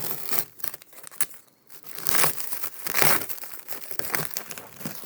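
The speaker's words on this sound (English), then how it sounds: "I'm just going to peel this back and take off this label just to see for sure." A label is peeled off a Halloween tombstone decoration, giving close, crackly crinkling and tearing bursts that come and go over a few seconds.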